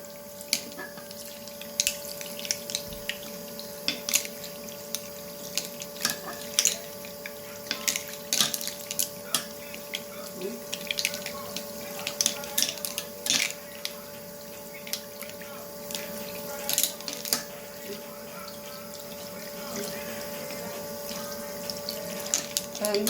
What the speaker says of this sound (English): I'm just going to turn on the warm water